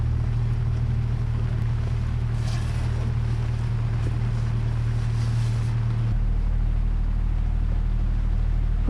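Sailboat off the Atlantic coast of Brittany motoring under its engine in light wind, a steady low drone with water and wind rush throughout, the engine pitch shifting slightly near the end; no talking.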